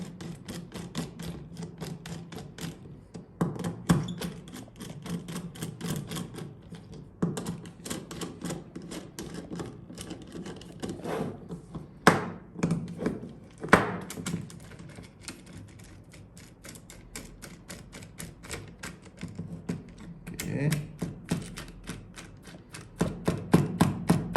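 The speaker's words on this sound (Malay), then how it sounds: "Kita ketatkan dulu semua. Nanti bila longgar dia punya reading tak cun." Screws being tightened on MCB breaker terminals during a leakage test, heard as a long series of sharp, irregular close clicks and taps from the screwdriver, with no talk.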